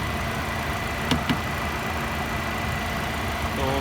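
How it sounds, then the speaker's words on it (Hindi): An MG HS with a 1.5 turbo engine idles for a sound check, a steady close hum with two brief knocks near the start. "इंजन की अगर मैं साउंड चेक करवाता चलूँ"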